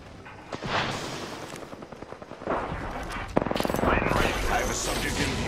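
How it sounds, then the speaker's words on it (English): Enemy gunfire in Apex Legends: scattered shots at first, then rapid automatic bursts that grow louder and denser, rattling in quick succession near the end. "They're shooting at me."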